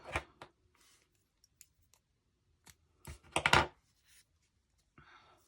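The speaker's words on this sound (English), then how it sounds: "Pull some off and cut your yarn." Scissors snipping crochet yarn close by, a few short sharp cuts and clicks scattered through near-silence, with one denser burst of snipping in the middle.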